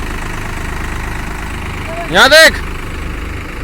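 Swaraj 744XT and New Holland 3600 tractor engines run at a steady idle throughout, a low continuous rumble under a brief loud voice burst near the middle.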